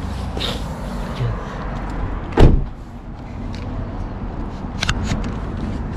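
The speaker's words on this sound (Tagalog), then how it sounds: "Sarado mo natin itong sasakyan." A car door slams shut once with a sharp, solid thump midway through, over a steady background of idling vehicle and road noise, with a few faint clicks afterward.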